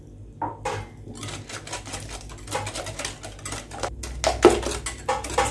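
Basbousa batter with a glass of oil being mixed in a bowl, the utensil clattering and scraping against the sides in a steady, close series of quick knocks with no talking.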